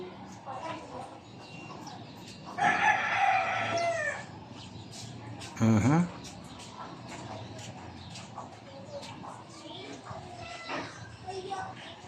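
Chickens close to laying eggs cluck and call, with one longer drawn-out call near the start and another sharp call partway through, over a steady noisy background with a voice heard.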